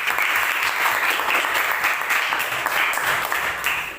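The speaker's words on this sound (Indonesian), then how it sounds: "Tepuk tangan dulu." A classroom of students applauds a group after its presentation, a thick, even wash of clapping from many hands that holds steady for about four seconds.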